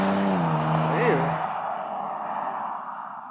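A BMW 335i's big-turbo engine revs up, then its pitch drops sharply at a gear change, followed by a rushing turbo whoosh that fades as it pulls away.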